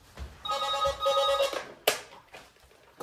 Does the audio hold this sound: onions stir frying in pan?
no